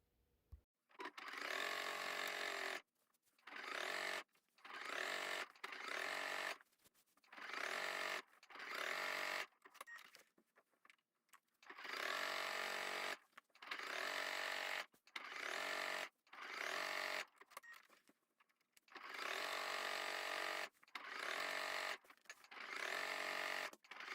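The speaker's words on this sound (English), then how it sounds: "I'm going to just sew down each of these lines to quilt this together." A sewing machine stitches quilting lines across a vintage fabric table runner, running in loud close bursts of steady whirring separated by short pauses, about a dozen runs in all.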